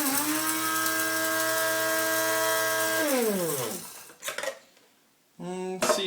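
Coffee beans ground in a grinder for a stovetop moka pot: a steady loud motor whine that winds down, then a brief rattle and a short second burst of grinding, with no talk.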